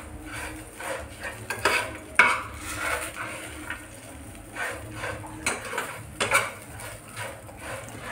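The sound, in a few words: stirring raw banana curry with salt in a pan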